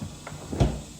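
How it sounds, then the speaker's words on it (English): A Tesla Model Y car door with a fitted door latch protector swings shut with one close, solid thud after a faint click, then settles into quiet. "Let's make sure the door still closes again."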